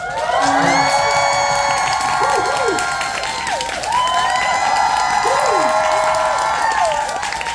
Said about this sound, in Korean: 큰 박수와 함성을 혹시 보내줄 수 있으시다면